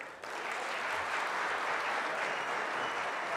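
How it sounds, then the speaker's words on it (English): Sustained applause from an audience at a men's indaba gathering, a dense steady wash of clapping that swells in after a brief pause and holds at full strength throughout. "Another big round of applause for UVC"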